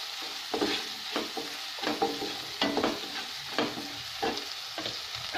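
A pan of vermicelli upma is stirred over a medium flame, with a spoon scraping in repeated close strokes about once a second over a soft continuous sizzle.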